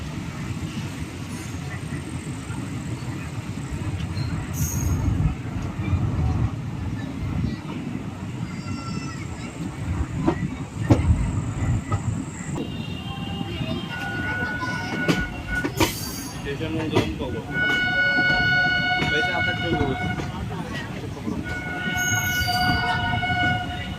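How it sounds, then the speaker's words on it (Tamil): A passing train overtakes the Andaman Express on an Indian rail route, its steady rolling rumble carrying on throughout, with sharp squeals and metallic tonal whines building in the second half, close and loud. "இப்போ என்னடானா அந்த வண்டி இதை ஓவர்டேக் அடிச்சுட்டு போகுது."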